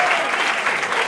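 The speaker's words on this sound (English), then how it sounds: "Another round of applause for Mark." Audience applause for Mark, a musical director and piano player, at a cabaret-style performance; a steady, dense wash of clapping fills the short moment throughout.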